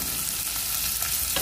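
Onion hitting hot oil in a pan for adobong sitaw, a brief burst of dense, hissing sizzle that stays steady and fairly loud, with no voices.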